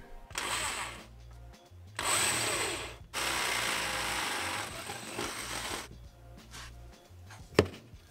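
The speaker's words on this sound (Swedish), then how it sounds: "Nu kommer det lite läskiga borra ner genom golvet." A power drill whirs loudly in several long bursts, boring down through a campervan floor, stopping and restarting, with a sharp knock near the end.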